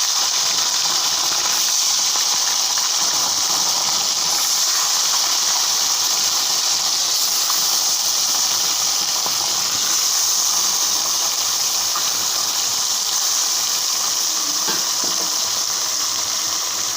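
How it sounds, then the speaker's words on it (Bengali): Fish frying in hot oil in a wok over a gas flame, a steady loud sizzle and hiss holding constant throughout with faint crackles, no talking. "মাছগুলো সব আমি ভেজে নিই।"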